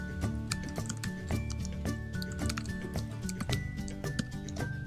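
Rapid keystrokes on a computer keyboard while entering code in the Eclipse Java editor, a dense run of sharp clicks over a steady tonal hum at moderate level.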